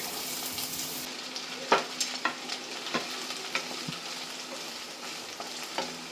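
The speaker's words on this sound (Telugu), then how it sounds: "క్యారెట్, బీన్స్ వేసేసుకొని స్టీర్ చేసేసుకోవడం." Carrots and beans stir-fried in piping-hot oil over a high flame, giving a steady sizzle with repeated sharp scrapes and clacks of the spatula against the pan, close and clear, with no voices.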